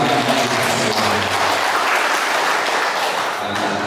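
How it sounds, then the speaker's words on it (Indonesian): Steady applause from a crowd of students and staff at a school gathering at SMA 1 Suko, continuous clapping throughout without breaks. "Anak-anak tadi belum dikasih tepuk tangan ya"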